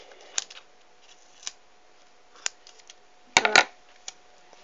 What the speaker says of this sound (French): maintenant nous allons couper des petits bouts